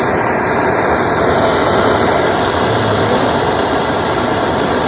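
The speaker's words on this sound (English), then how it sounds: "the torch went ahead and kind of unloosened the adhesive there" A torch burns with a loud, constant roar while heating a power valve part to loosen its adhesive. The sound holds steady and close for the whole stretch, with no talk.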